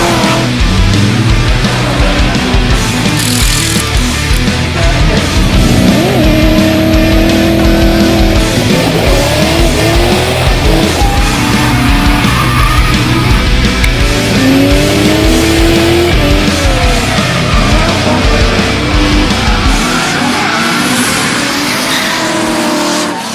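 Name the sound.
Mazda RX-7 drift car racing on Achilles tyres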